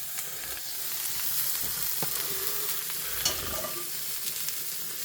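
Pasta is tossed through a frying pan, with a soft, steady sizzle and occasional light scrapes and clinks of stirring, moderately close and fairly quiet.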